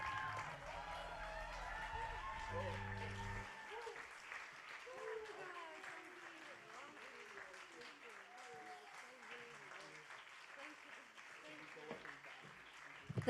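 Audience applause rising after a jazz concert at a Baltic jazz festival, steady clapping filling the hall while a voice talks over it, with the band's last sustained tones fading in the first few seconds.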